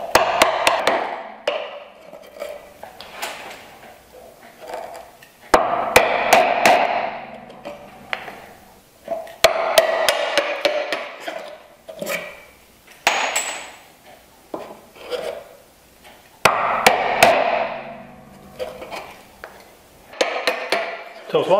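Hand chisel chopping and paring waste from a bridle joint mortise in wood, a run of sharp, close taps and scraping strokes coming in uneven bursts with short pauses between them.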